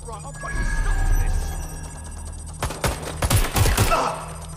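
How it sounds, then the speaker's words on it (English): Gunfire from a suspect shooting in Watch Dogs Legion, a cluster of sharp cracks and bursts arriving in the second half over a steady low game rumble, with voices talking nearby. "Suspect shooting!"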